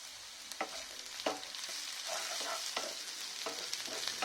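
Tomato being sautéed with masala in a pan for an egg sprouts salad: a steady close sizzle with repeated scraping stir strokes, with no voices.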